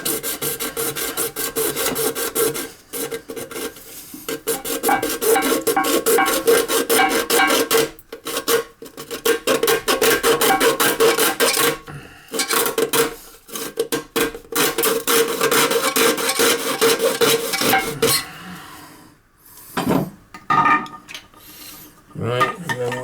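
Rasping, sawing strokes cut through a plastic toilet fill valve part, rhythmic and close, with several short pauses between bursts of cutting.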